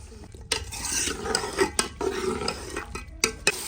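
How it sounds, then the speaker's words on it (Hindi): Potatoes with spices frying in a pan while being stirred, giving close scraping strokes of a utensil against the pan over a soft sizzle, with no talking. "अब आलू डाले जा रहे हैं। इसको फ्राई करके फिर बाद में अंडे डालेंगे।"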